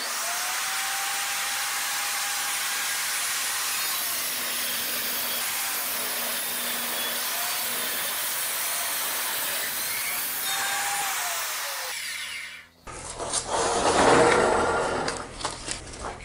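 A table saw rips lengthwise through a bowed 2x4 board, its steady loud whine holding through a long continuous cut before the motor spins down and winds off near the end.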